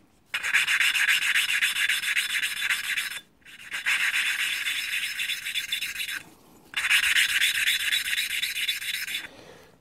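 An engine valve is lapped with grinding paste, giving a steady gritty rubbing rasp in three long runs separated by brief pauses, close up with no talking.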